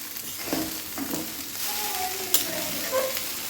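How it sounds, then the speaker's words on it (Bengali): Potatoes frying in a pan give a steady, moderate sizzle throughout, with a few soft clinks of stirring and a brief sharper clatter partway through, no voices. "আর এই যে এখানে আলু ভাজা।"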